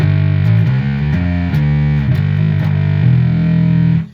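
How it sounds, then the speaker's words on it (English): Bass guitar played through a breadboarded one-knob fuzz circuit with a filter on the edge of oscillation, loud, buzzy, distorted notes shifting through a short line for about four seconds, then cut off. "that's where the main part of this sound in this circuit comes from, is that on the edge of oscillating filter thing going on."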